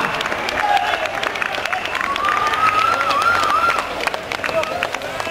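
A roadside crowd applauds and cheers the winning rider, number 23, at the finish of a Champagne-Ardenne road cycling classic, steady clapping throughout with a whistle-like tone and voices mixed in.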